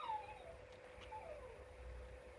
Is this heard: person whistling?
no